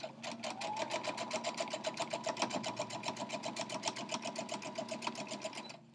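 A sewing machine stitches a quarter-inch quilt seam, its needle chattering in a fast, steady, even rhythm for several seconds before stopping, close and clear with no talking.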